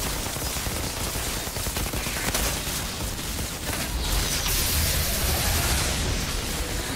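Enemy gunfire in the Outriders co-op shooter game rattles on continuously as dense, overlapping bursts of shots over a noisy battle background.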